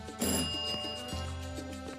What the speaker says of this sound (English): I had that bell first